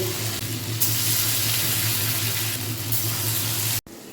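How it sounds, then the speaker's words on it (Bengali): A mashed lentil and plantain mixture sizzles in a pan as a continuous hiss, brightening partway through before cutting off abruptly near the end. "মা এখন ভাজা করছে"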